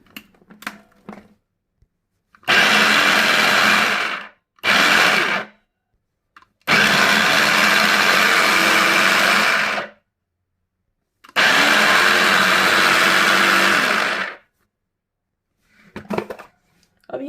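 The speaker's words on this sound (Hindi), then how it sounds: "बंद गोभी, गाजर, गोभी और शिमला मिर्च को चॉप करेंगे।" An electric chopper runs in three long bursts and a couple of short pulses, loud and close, while chopping cabbage, carrot, cauliflower and capsicum for a vegetable Manchurian gravy, with silent gaps between bursts.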